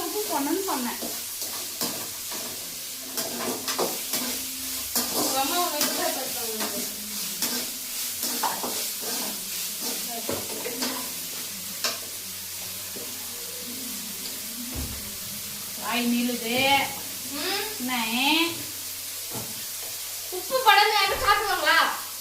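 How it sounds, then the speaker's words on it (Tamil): Tomato and onion sautéing in a pan, a continuous soft sizzle with occasional stirring scrapes, while someone talks over it at times. "தக்காளி வெங்காயம் வதங்கும்"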